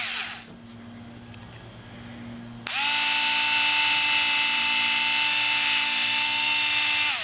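A brand-new Hitachi DB3DL cordless screwdriver with a slightly wobbly chuck starts up abruptly and runs at a steady high-pitched whine, loud and close, after a quiet stretch.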